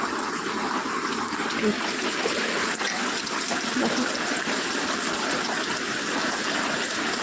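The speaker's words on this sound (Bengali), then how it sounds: "দেখেছো কি হারে বৃষ্টি পড়ছে" Heavy rain pouring steadily, a dense rushing hiss of falling water that stays constant throughout.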